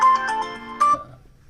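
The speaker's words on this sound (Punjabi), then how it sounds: "ਕਿਹਦਾ ਫੋਨ ਆ ਗਿਆ" A mobile phone ringtone plays two short bright melodic bursts close by, then stops and falls silent.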